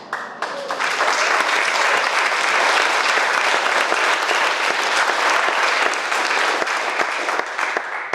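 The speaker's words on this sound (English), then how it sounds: "I was going to ask you to applaud, but you just did it." Audience at a memorial celebration for a folk musician at a community music school breaks into loud, dense applause, a full room clapping steadily for about eight seconds.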